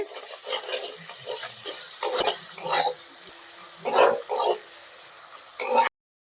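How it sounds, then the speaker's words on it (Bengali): Onion and garlic fry together in a pan for a pumpkin, rohu fish head and Malabar spinach dish. A soft sizzle runs under intermittent scraping stirs, with a sharp clatter just before the sound cuts off. "রসুন পেঁয়াজ একসাথে ভালোভাবে ভাজা হয়ে গেছে"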